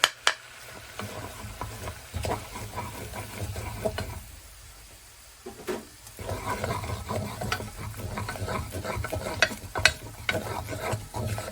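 Flour for a bechamel cooks in a pan while being stirred, an uneven frying hiss under repeated scraping and clicking strokes, with a brief quieter stretch midway before the scraping resumes more briskly; no voices.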